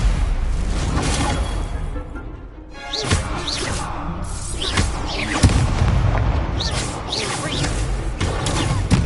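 Spell effects in the Hogwarts Legacy video game, with a rapid sequence of whooshes, booms and crashing impacts over a continuous loud combat soundscape, densely layered without pause.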